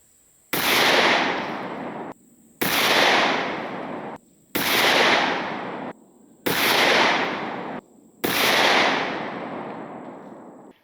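Five loud shotgun blasts from a Genesis Arms Gen-12 firing buckshot at a 25-yard target with an 18-inch upper, evenly spaced about two seconds apart, each with a sharp crack and a long rolling decay.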